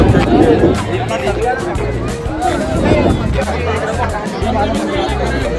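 Dense crowd babble at the Ekvira Devi temple during a palkhi procession near the Karla caves, with many overlapping voices, steady and close.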